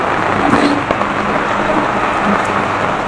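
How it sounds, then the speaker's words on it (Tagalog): Dense, steady downpour of heavy typhoon rain hissing across the whole clip, with a few louder drops and splashes close by. "Tuloy-tuloy pa rin yung ulan."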